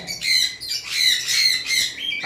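Cockatiels squawking close by in a bird sale setting, a run of loud, harsh, rasping calls with brief gaps between them and no talking.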